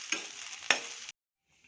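Sliced bitter gourd fries in hot oil in a pan, a steady close sizzle broken by two sharp stirring scrapes, then cutting off abruptly to near silence.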